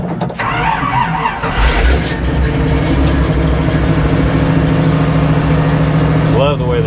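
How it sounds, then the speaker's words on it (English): A 1972 GMC 3500 wrecker truck engine idles steadily and close, a deep continuous rumble after starting, with people talking over it. "Love the way this truck sounds."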